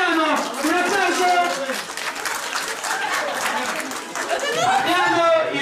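An audience of a summer youth camp gathering applauds loudly, with sustained clapping mixed with chatter and cheering voices that dips briefly and swells again.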